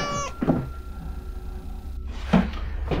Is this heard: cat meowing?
yes